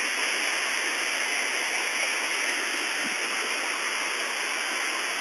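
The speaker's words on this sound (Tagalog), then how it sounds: "Ito, ganito kataas ang waterfalls dito." Agpay Falls, a tall waterfall in San Nicolas, Pangasinan, roars steadily and close by as a dense, unbroken wash of falling water with no pauses.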